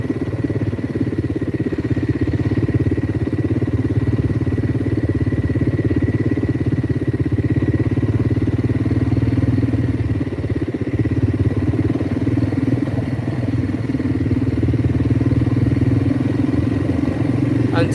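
A motorcycle engine thrums steadily while being ridden along a road, a constant mid-pitched rumble with faint clatter, moderately close throughout, with someone talking over it.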